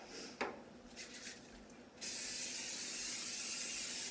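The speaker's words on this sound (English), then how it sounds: "I'm going to go ahead and spray my pan." Cooking spray hisses onto a baking pan for dog treats in a home kitchen, a steady close-up burst lasting about two seconds after some quiet handling noises.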